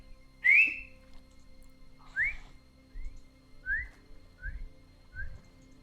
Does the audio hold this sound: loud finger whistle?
yes